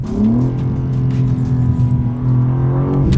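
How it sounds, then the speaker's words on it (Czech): A modified car engine revs loud and close in a sustained, smooth drone whose pitch climbs slightly and then holds steady. No one talks over it. "Takhle by to auto mělo znít podle mě, když vyjde z výroby."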